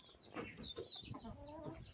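Chickens follow a person climbing stairs, giving soft, repeated clucks close by in a quiet setting.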